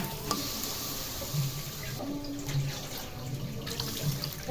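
Water is poured into a hot cooking pot for a katla fish curry, a soft steady splashing rush mixed with faint sizzling from the pan.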